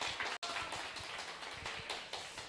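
A church congregation at a special Korean retreat service applauds, a steady dense patter of many hands clapping, close and loud with no talk.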